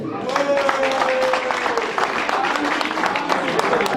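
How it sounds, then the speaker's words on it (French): Wedding guests at a reception applaud loudly in a continuous, dense roll of clapping that holds steady throughout, close and full, with a few voices and a tonal sound audible beneath. "Des applaudissements pour notre André"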